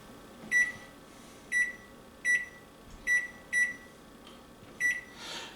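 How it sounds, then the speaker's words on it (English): A kitchen timer beeps as it is set for a 30-minute dough rise, giving six sharp, evenly spaced electronic beeps about a second apart over quiet room tone. "Setting a new timer for 30."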